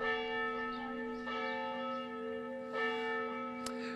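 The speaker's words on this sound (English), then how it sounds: "The bells are ringing here at Santa Barbara's Old Mission" Church bells ring at the Santa Barbara Old Mission during a special mass for peace, steady sustained tones with repeated strikes blending into one another, moderately distant and clear with no talk over them.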